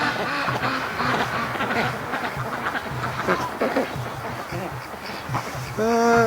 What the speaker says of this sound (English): And the brant geese are still here.